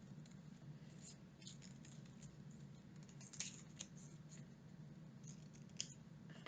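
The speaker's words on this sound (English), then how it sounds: "I'm going to keep my paper folded while I cut it out." Scissors snip through folded paper to cut out a raindrop shape for a cloud craft, giving a quiet, steady run of small crisp cuts and rustles, close and alone, with a couple of sharper snips near the end.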